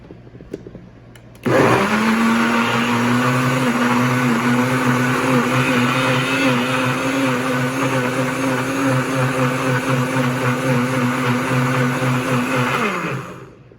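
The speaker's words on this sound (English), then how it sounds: "and now I'm ready to blend it." A blender blending aloe vera kicks on abruptly and whirs at a steady high pitch for about twelve seconds, loud and close, then winds down.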